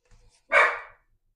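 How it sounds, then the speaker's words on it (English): A dog gives a single sharp bark at close range, loud and brief, after a few faint low thumps and with silence before and after. "No barking."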